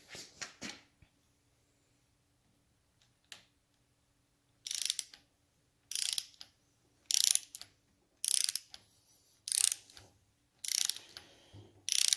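A torque wrench tightening the fork slider pinch bolts on a 1975 Norton Commando MK3 clicks and ratchets in six short, close bursts separated by quiet pauses.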